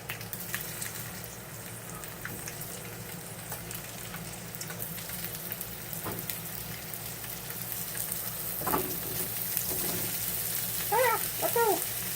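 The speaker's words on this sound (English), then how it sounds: "cook my shrimp." Shrimp frying in a hot pan on a stove at home, a steady sizzle with crackling and popping throughout, growing a bit louder toward the end, with no talking.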